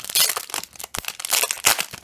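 Plastic wrapping and card packaging crinkle and tear as a Korean Pokémon XY2 booster display is opened up close, with bursts of crackling and ripping and no talk.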